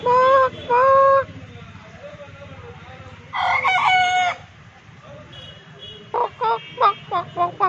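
A white hen clucks in several short, loud bursts near the microphone, with a rapid string of choppy clucks toward the end.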